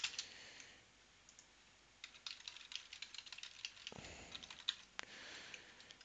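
Quiet bursts of keystrokes on a computer keyboard as an admin password is typed, soft irregular clicks in short runs with brief pauses, recorded close.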